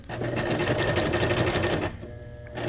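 A sewing machine stitching a decorative zigzag onto junk journal pages, a fast rapid mechanical chatter running steadily and close, then briefly pausing before starting again.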